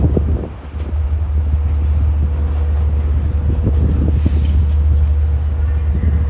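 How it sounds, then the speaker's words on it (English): Train 556 heads for Oyster Bay with locomotive 402 leading, passing close by at Jamaica station on a windy day. A loud, sustained low rumble and rattle runs steadily throughout, roughened by gusts buffeting the microphone. "here comes train 556 equipment, bound for Oyster Bay with the 402 on the point"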